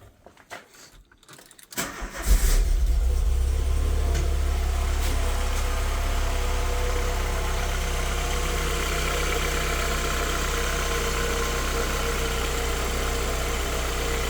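A VW Golf MK3 with a failing alternator and water pump cranks and fires after a little key jangling, then settles into a steady, close idle that drones on alone.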